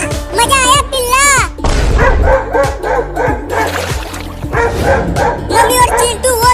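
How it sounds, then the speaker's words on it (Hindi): Cartoon dogs chasing a cat up a tree bark and yip loudly in quick repeated bursts, with a cartoon voice talking over the barking and some thumps. "वो दोनों कुत्ते उस बिल्ली को पकड़ने की कोशिश कर रहे हैं"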